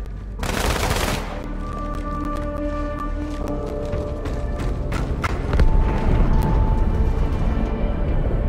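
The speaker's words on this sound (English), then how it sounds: "That explosion came from inside the Athens, same as the Malta." A large explosion erupts in the video game Halo 2: Anniversary, a loud blast followed by sustained rumbling and repeated crackling gunfire-like bursts that swell again later in the sequence.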